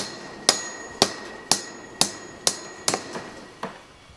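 A hammer drives nails or staples to fix mesh onto an adobe wall, with seven sharp, evenly spaced strikes about half a second apart, the last ones softer and quicker.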